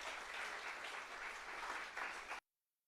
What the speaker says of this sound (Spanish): denle un fuerte aplauso a Dios, hermanos